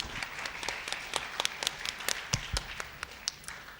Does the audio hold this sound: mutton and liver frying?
no